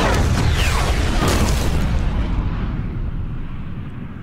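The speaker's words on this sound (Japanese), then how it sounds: "絶対爆発するもんな、あのケースはな。" A case explodes in Resident Evil 6 with a loud, broad roaring blast that rumbles on and slowly fades over several seconds, no voices over it.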